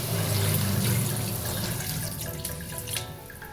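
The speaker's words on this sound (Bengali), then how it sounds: "সব একসাথে ভালো করে কষানো হয়ে গেলে জল দিয়ে দিচ্ছি।" Water is poured into a pan of soybean and potato curry, a steady splashing rush that is loudest at the start, then eases and keeps trickling with a few brief bright spatters.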